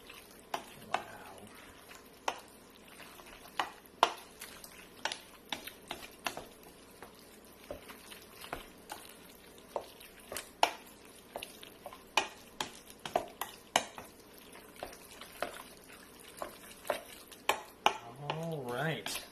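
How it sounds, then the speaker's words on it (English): A ricotta mixture for tofu lasagna is stirred with a drumstick in a bowl, giving wet, squishy churning with repeated sharp knocks and scrapes against the bowl, close and busy throughout. "One of my favorite things to mix with, it's actually a drumstick."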